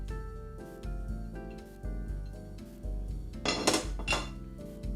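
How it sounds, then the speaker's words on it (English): Clattering metal pan and utensil clinks as lean sausage goes into a pan on a kitchen stove, with a louder burst of clanking and a brief sizzle-like hiss midway, over steady background hum. "Okay, so let's go ahead and get this in the pan."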